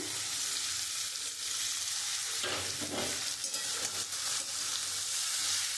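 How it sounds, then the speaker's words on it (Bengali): Spices (turmeric, cumin and chili powder, four green chilies, salt) frying in oil with radish and puti fish for a spicy curry: a steady, close, loud sizzle with stirring scrapes throughout. "আমি এবার মশলাটা দিয়ে খুব সুন্দর করে কষিয়ে নেবো"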